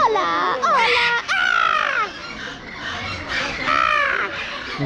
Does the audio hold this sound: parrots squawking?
yes